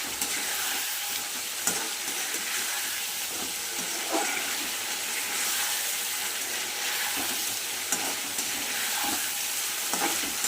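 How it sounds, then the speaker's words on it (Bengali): Chicken pieces sautéing with spices in a pan for a papaya and chicken curry, a steady dense sizzle with occasional stirring scrapes throughout, close and continuous with no talking. "ভালো করে চিকেন মশলা দিয়ে সুন্দর করে কষিয়ে দিচ্ছি।"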